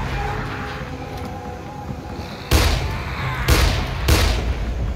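Gunshots in the zombie game Dead Island, three loud booming reports spaced about a second apart over a low rumbling ambience.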